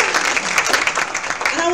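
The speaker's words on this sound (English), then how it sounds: "You can clap for him anyway." Congregation clapping at a Sunday morning celebration service at Unity of Music City, a dense, loud burst of applause throughout a brief moment, with a voice speaking faintly beneath it.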